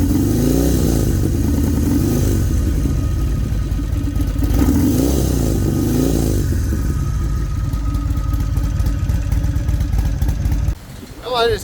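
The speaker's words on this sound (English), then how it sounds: "That's the whole engine doing that little thump right there. When you rev it up, everything smooths out." Harley-Davidson XR1200 motorcycle fitted with a custom Free Spirits style intake, its engine loping and thumping at idle, then rising and falling through several throttle blips, loud and close, before cutting off near the end.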